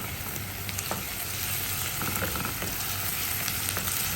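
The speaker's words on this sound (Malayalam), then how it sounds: "അതിനകത്തോട്ട് നമുക്ക് 1 ടേബിൾ സ്പൂണോളം ഇഞ്ചി വെളുത്തുള്ളി പേസ്റ്റ് ഇട്ട് കൊടുക്കാം. എന്നിട്ട് അതിനെ നമുക്ക് നന്നായിട്ട് വഴറ്റിയെടുക്കണം" Ginger garlic paste sautés in hot coconut oil for a Kerala egg curry, giving a dense, continuous close-up sizzle and crackle with faint stirring throughout.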